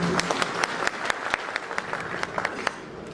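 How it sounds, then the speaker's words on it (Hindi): A crowd claps together in dense, steady applause, sharp hand claps popping out of the mass, continuing without any voices throughout. "एक ताली बजा के आशीर्वाद दें"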